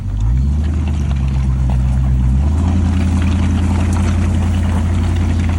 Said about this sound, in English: Going to get my wheel spin.